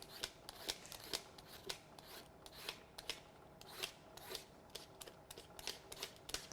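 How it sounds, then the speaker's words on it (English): Yellow and orange carrots peeled with quick, rhythmic scraping strokes, a steady series of close, crisp rasps at an even pace with no talking. "a quick peel."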